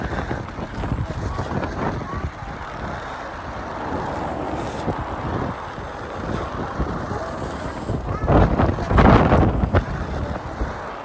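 Gusty wind buffets the microphone outdoors near a city hall, a steady low rumble that swells louder around the ninth second, with people talking intermittently over it.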